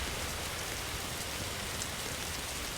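Steady rain falls without a break in the survival video game 99 Nights in the Forest, a dense, even hiss held at moderate level with no voices over it.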